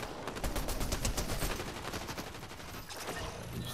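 Rapid bursts of automatic gunfire in a Fortnite match, dense, loud and continuous, with overlapping shots carrying through most of the stretch and no talk over them.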